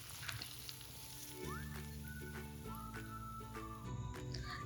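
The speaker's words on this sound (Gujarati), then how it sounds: "તેલ ગરમ થઈ ગયા બાદ 2 ચમચી રાઈ, લીમડી અને 3 ઝીણા સમારેલા લીલા મરચાં અને 4 ચમચી તલ ઉમેરી" Mustard seeds, curry leaves, green chillies and sesame seeds sizzle in hot oil for a tempering, a crackling hiss with sharp pops and a few faint metallic clinks, moderately quiet and continuous.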